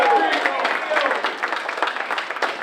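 An audience at a veterans' comedy night fundraiser claps for a comedian, a dense burst of applause with some cheering, loud and close, fading slightly toward the end.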